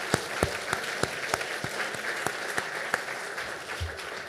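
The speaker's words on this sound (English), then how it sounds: "please applaud." An audience claps during a national academic competition livestream, a dense, even round of applause punctuated by several louder nearby claps, sustained throughout without speech.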